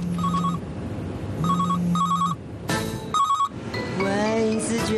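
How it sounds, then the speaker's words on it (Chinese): A telephone rings in repeated electronic bursts with short gaps between them, loud and close. Near the end, someone starts talking. "接电话。"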